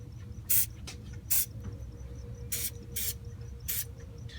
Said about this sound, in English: we're just going to do a nice light spray on both of the terminals